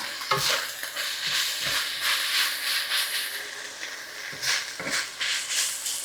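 Philly cheese steak filling fries in butter in a pan, a steady close sizzle under repeated scraping and stirring strokes, with no talk.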